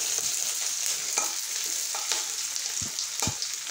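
Onions frying in oil in a home kitchen, a steady broadband sizzle throughout with a few soft stirring scrapes and knocks, close and continuous, no talk.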